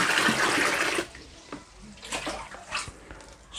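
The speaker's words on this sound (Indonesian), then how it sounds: "Beri air secukupnya saja. Airnya ditambah" Water poured from a container into an outdoor tub used for raising water fleas, a loud gush for about a second followed by softer drips and sloshes nearby.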